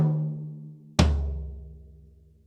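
Two tom strikes on 12 and 16 inch toms fitted with 2-ply coated heads, a lower warm tone ringing before a second, deeper and harder hit at one second that booms and decays slowly, alone with no talking.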